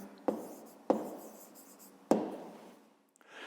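Pen writing out an answer by hand on paper for a fifth-grade maths exercise: three sharp taps as the pen meets the page, each followed by a soft scratching stroke, close and quiet with no talk.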